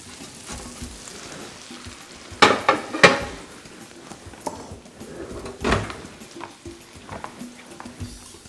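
A roasted beef fillet is taken out of the oven, with clanks of a tray and oven door, metal knocks and faint sizzling fat, several sharp bumps spread across otherwise quiet kitchen handling.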